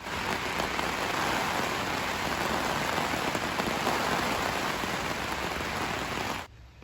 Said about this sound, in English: And it's still raining now.